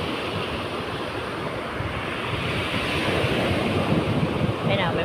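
Ocean waves wash up on a beach shore in a steady, broad roar of surf with wind noise across the microphone, swelling slightly louder toward the end.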